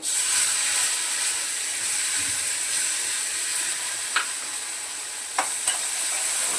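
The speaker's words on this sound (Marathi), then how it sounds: "कांदा आणि कढीपत्ता एकत्र टाकते" Onion and curry leaves sizzle in a hot tempering of cumin for a matar paneer curry, a steady loud frying hiss with a few brief stirring clinks, and no talk.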